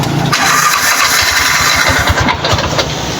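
A 236cc motorcycle engine cranks and catches, then runs loudly close by with a rapid, rough, uneven putter.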